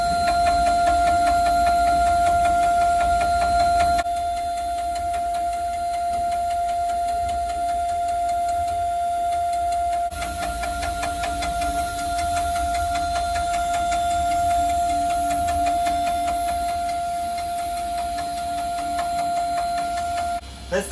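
A CNC cutting machine engraves a vertical diamond cut into a gold bangle, giving a steady mechanical whirr with a sustained high whine and fine rapid ticking that runs without a break, close and fairly loud.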